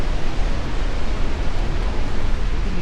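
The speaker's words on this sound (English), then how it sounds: "The sound of the rushing water gets louder with every step." Horseshoe Falls at Niagara Falls roars with rushing water, a loud, steady broadband wash that fills the whole clip without pause or voices.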